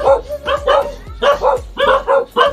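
A quick run of loud, close dog barks in uneven bursts, several dogs yapping over one another.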